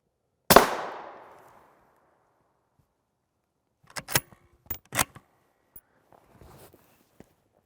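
A single sharp, loud rifle crack as a Winchester M193 round strikes a steel body armor plate, ringing briefly as it fades, followed after a pause by several quieter scattered clicks and knocks.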